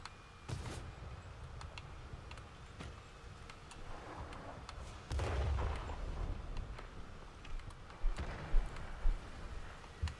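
Tank cannon shots boom at intervals in a tank video game, a heavy blast near the middle and a few sharper reports toward the end over a low rumbling background.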